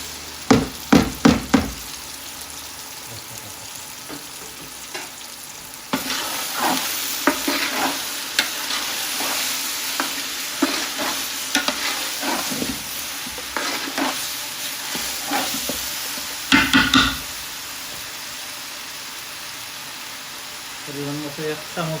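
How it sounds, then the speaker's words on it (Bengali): Onion, ginger and garlic fry in a pan for an Arabic meat kabsa, a loud steady sizzle with frequent scraping stirs and spoon knocks, opening with a few sharp clanks while a voice talks over parts of it. "আমার বাজা হয়ে গেছে পেঁয়াজটা আদা রসুনটা"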